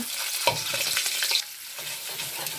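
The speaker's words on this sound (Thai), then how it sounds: "เราจะผัดพริกแกงของเราให้สุกแล้วก็หอมก่อนนะคะ" Southern Thai curry paste sizzles in a hot pan while being stirred, with soft scraping and crackling, close and fairly quiet, easing off after a brief burst.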